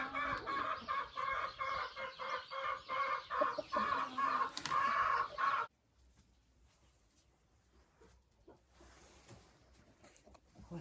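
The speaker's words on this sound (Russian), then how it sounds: "Вот, смотрите, курица сидит и несется в гнезде без соломы на линолеуме." A hen sitting in a nest on bare linoleum, without straw, while laying clucks in a quick rhythmic series for several seconds, then falls quiet, leaving near silence.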